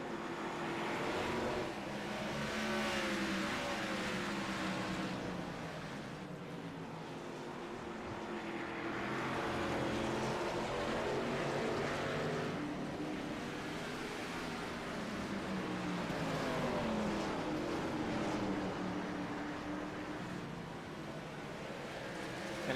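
Race cars running close together around the short Martinsville track, a droning engine chorus that rises and falls in waves as the pack passes, moderately loud and steady with no voices.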